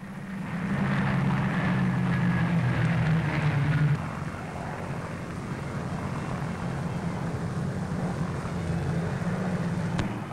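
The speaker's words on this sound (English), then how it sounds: "the US Navy's been practicing with pilotless planes, which will take part in the atomic experiment" A US Navy pilotless drone aircraft preparing for the 1946 Bikini Atoll atomic test, with a steady propeller-engine drone that swells loudly for several seconds and then eases to a lower, constant hum.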